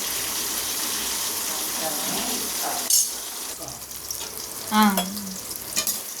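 Brinjal sautéing in oil in a pan for a spicy oil brinjal gravy, a steady close sizzle with brief stirring scrapes and clatters midway, no talk.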